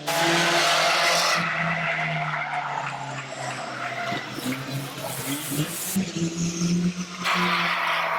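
Stock cars racing on an oval track, with engines roaring close by and loud tyre skids and squeals as the cars slide around the bends.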